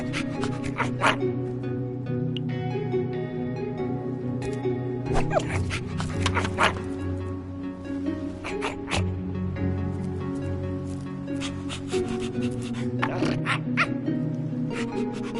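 A dog in the video game Minecraft gives repeated yipping barks over a steady game soundtrack, with short bursts spread through the scene.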